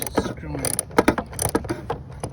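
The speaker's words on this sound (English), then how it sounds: "you connect the ratchet to the extension" A socket ratchet on an extension turns the 10mm air filter housing bolts on a Toyota Sienna, giving a few quick clicking, grinding bursts close by.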